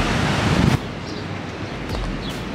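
Wind buffets the microphone over a broad, steady wash of Atlantic surf at Biarritz, with a louder gust early on.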